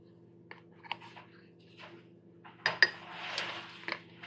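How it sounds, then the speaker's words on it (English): A spoon mixes keto cinnamon mug cake batter inside a mug, making light intermittent clinks and scrapes against the sides, with a brief busier burst of tapping near the end in a quiet kitchen. "I'm just going to mix it in my mug."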